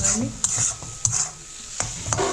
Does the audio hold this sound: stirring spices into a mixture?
yes